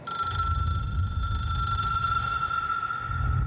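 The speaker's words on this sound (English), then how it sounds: "Answer the goddamn phone." A telephone rings steadily in the video game Control, a continuous electronic bell tone held for several seconds over a low rumbling ambient background, with no talking.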